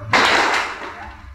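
A single sharp burst of a crowd clapping once in unison at an indoor gathering, a loud crack that rings out and decays over about a second.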